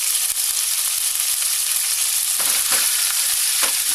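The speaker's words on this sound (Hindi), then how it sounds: "चिकन को भी साथ में भूनेंगे ताकि चिकन हमारी गल जाए" Chicken frying in hot oil in a pan for chicken seekh fried rice, a steady loud sizzle with a few scraping stirs toward the end and no talking.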